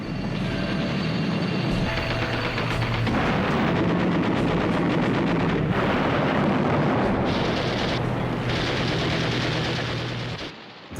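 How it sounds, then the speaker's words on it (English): Heavy bombing on a World War II aircraft carrier at sea, a bomb penetrating four decks before exploding: a loud, sustained roar of blasts and rumbling fire with crackling bursts, continuous and dense throughout, dropping off at the end. "But then she took a bomb which penetrated 4 decks before exploding."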